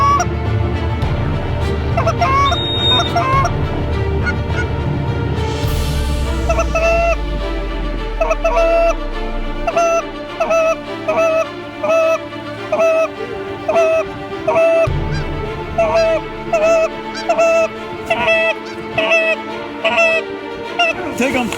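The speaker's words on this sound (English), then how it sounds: "More geese coming." Geese honk repeatedly in a steady rhythmic series during a bird shoot in Ontario, loud and fairly close, with a low rumbling start and occasional voices in the background.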